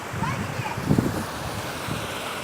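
Rushing water at Corocochó waterfall in Piabetá, Rio de Janeiro, makes a steady broad hiss with wind noise, while people talk over it.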